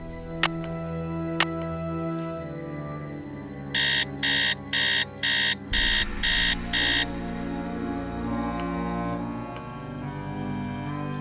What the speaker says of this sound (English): we'll set the alarm clock for later in the day here.